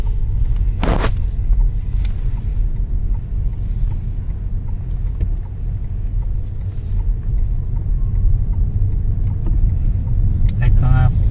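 A long passenger car travels on a road trip, its cabin filled with a steady, loud low rumble of engine and road noise that holds evenly throughout, with brief faint voices and small knocks now and then.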